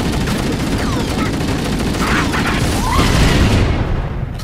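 Rapid gunfire and explosions from a Halo Anniversary co-op match clatter loudly and continuously, dense bursts blending with booming impacts.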